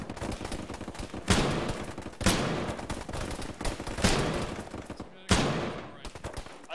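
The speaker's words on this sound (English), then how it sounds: "Getting shot through the fucking wall." Gunfire in the military video game Arma during a ShackTac session, loud bursts and single shots cracking repeatedly over several seconds, with sharp reports standing out above a continuous rattle.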